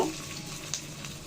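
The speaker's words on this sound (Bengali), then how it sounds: "চিংড়ি মাছের বড়া ভাজার জন্য এখানে আমি প্যানে তেল গরম করে নিয়েছি" Prawn fritters (chingri bora) frying in hot oil in a pan make a brief, steady crackling sizzle with one small pop.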